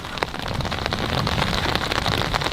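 Steady rain patters on an umbrella on a cold day, a dense, continuous close-up drumming of drops with scattered sharper taps throughout.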